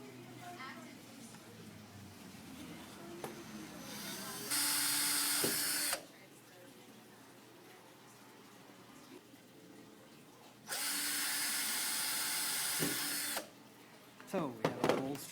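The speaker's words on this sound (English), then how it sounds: "So we have our holes drilled." A power drill bores holes in a glovaphone shell in two steady whirring bursts of a few seconds each, with quiet handling and faint talk in the pauses between them.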